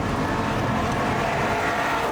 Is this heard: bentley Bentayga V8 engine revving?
yes